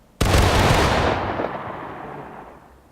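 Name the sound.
company musket volley in the video game War of Rights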